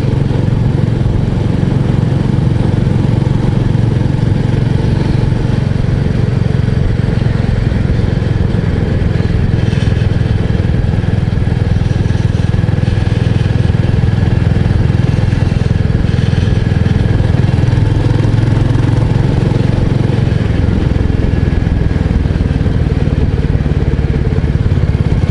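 A 2024 Royal Enfield 350 Bullet motorcycle on the move, its single-cylinder engine thumping in a loud, steady low rumble close up, with wind noise throughout and a slight easing near the end.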